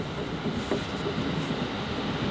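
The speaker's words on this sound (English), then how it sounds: "Is that a train?" A train rumbles past in Japan as a steady, loud rolling roar with a faint rhythmic rail clatter, heard without talk.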